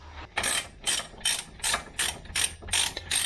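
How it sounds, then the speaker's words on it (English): Ratchet wrench tightening fine-thread bolts on the rear brakes of a 1979 C3 Corvette, a steady series of about seven clicking bursts, each a short ratcheting stroke, close and loud with no voices. "Again, these are fine thread, so they take forever to tighten up."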